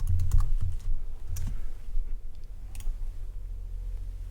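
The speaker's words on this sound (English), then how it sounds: "typing in our employee code again" Fingers tap an employee code on a cash register keypad, a quick cluster of close clicks at the start, then a few scattered presses over a low steady hum.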